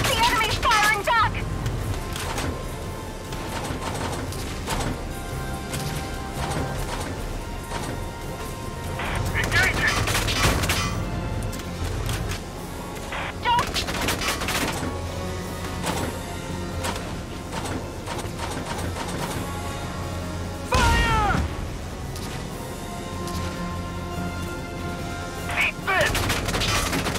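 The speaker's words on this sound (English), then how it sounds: "Uh-oh! The enemy's firing back!" Gunfire in the video game Valkyria Chronicles 4 during a winter battle on ice, with repeated shots, bursts and booms over game music, mixed with character voice lines.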